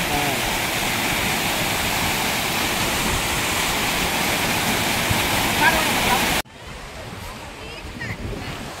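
A waterfall pours in a loud, steady roar for about six seconds, up close. The sound then cuts abruptly to a much quieter, distant rush of water.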